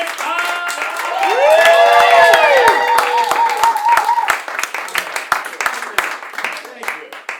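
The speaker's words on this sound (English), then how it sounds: "get the round of applause going" An audience at an interview with the director of Winter Dance Party '59 breaks into loud, sustained applause with cheers and whoops, and a voice is heard shouting over the clapping as it slowly thins out.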